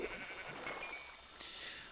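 Sheep bleating in a video game, a faint, wavering bleat or two over a quiet ambient backdrop, heard alone without talk.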